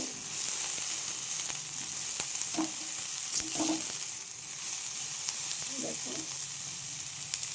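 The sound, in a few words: eggplant frying in a pan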